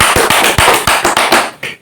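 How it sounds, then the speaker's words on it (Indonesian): An audience applauds together in a room, a loud burst of sharp, rhythmic claps at a steady beat that tapers off at the end. "Tepuk tangan dong untuk kita semua."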